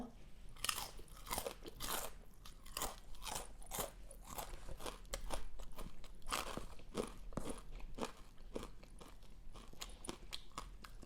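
Fried pork rinds are crunched and chewed close up, giving a steady run of crisp, crackly bites and munching at low volume, with no talking.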